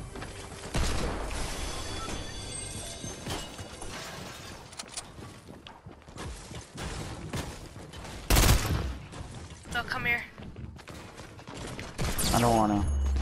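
Minigun fire in Fortnite Battle Royale comes in loud rattling bursts among other game effects and mechanical clatter, with a player's voice talking over parts of it.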